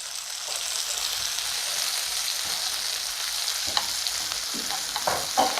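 Onion and tomato sautéing in a pan make a continuous, even sizzle, with a few light clacks of a stirring spoon near the end.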